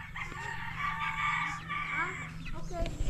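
Chickens cluck and a rooster crows in a backyard setting, with a steady rhythmic low hum underneath and people talking nearby.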